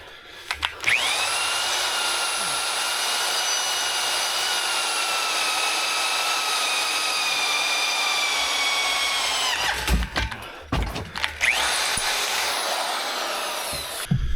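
A power drill bores into steel with a steady high-pitched whine for several seconds, then stops, followed by a few clunks and a brief second burst of whirring.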